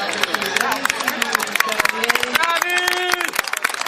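A crowd applauds horse riders at an outdoor equestrian event in Oristano, Sardinia. The clapping is dense and busy, with an announcer talking loudly over it and music-like tones underneath.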